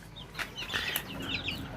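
Three-week-old Shamo-broiler cross chicks give short, close clucking and chirping calls in quick bursts, with no talking.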